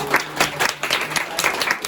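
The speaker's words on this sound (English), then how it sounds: "I would like you to give a round of applause for our guests for today" Close, lively round of applause from an audience at a tech industry event in Taiwan, many hands clapping in quick bursts for two seconds with no voices over it.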